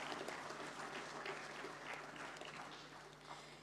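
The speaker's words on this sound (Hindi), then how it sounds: "a huge round of applause for all the awardees, please" A conference crowd applauds awardees at a national rural cooperative banks gathering, a faint, distant, continuous patter of clapping with a low steady hum underneath, slowly tapering.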